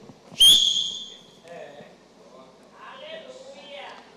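A man imitates a traffic guard's whistle with one sharp, piercing blast, then keeps talking in a speaking voice.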